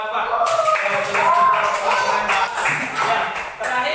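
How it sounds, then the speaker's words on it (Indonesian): Classroom clapping for a pupil during a primary school Islamic studies lesson, a steady patter of many hands with voices talking over it throughout. "Kasih tepuk tangan buat Rafa"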